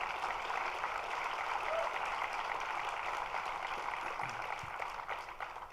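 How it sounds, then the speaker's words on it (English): Sustained audience applause at a government budget event on Long Island, steady and even clapping from a crowd that fades slightly toward the end. "let's give Pat Vecchio one more round of applause"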